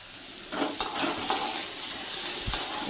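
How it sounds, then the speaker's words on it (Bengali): Potatoes fry in a pan with a continuous close sizzle, broken by three distinct scraping stirs of a spatula against the metal. "ওইদিকে আলু ভাজছি আমি, সাথে একটু পেঁয়াজ দেবো।"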